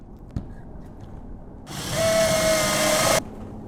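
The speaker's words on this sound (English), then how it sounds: "And how do you like this homemade drill?" A homemade drill whirs for about a second and a half, a steady high-pitched motor whine starting abruptly and cutting off, fairly close and loud after a quiet room with one small knock.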